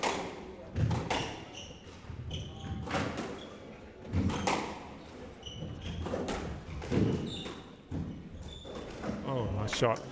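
Squash ball struck and rebounding off court walls during a women's professional final match, sharp thuds at irregular intervals under crowd noise and a commentator talking.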